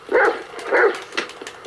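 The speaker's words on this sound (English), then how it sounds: "Fuck you, you stupid dog." A dog in Grand Theft Auto V barks two loud, close barks in quick succession, followed by a softer, shorter yip.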